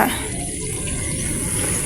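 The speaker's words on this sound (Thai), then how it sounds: "น้ำไหลกำลังดี" Water from a solar-powered supply runs steadily from a tap during hair washing outdoors, a continuous even rush with no pauses.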